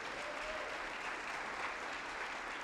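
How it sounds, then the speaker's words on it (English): An audience gives a round of applause for a moderator before an author talk, a soft, steady wash of clapping heard from a distance with no voices over it. "I want to say thank you to give him a round of applause"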